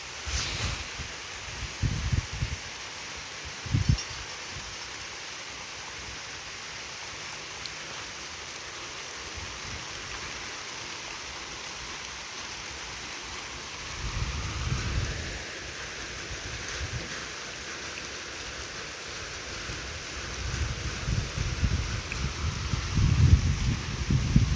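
Rain falls across flooded rice paddies, a soft steady patter with a few low thunder rumbles and heavier bursts of drops rising near the start, middle and end.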